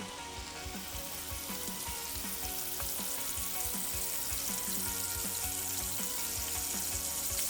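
Chopped vegetables sizzling in oil in a hot casserole, a steady, dense crackle that holds evenly from start to finish, heard close and fairly soft.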